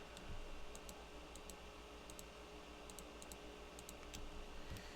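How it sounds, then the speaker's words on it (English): A computer mouse is clicked over and over while selecting edges in 3D modeling software, with shift held down: crisp, evenly spaced small clicks in quick bursts over a steady background hum, with no talking. "I'm holding shift and I'm just clicking over and over and over"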